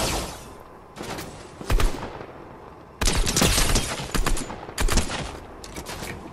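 Video game weapon fire with heavy recoil: bursts of rapid shots in several volleys, loud and close, separated by short pauses.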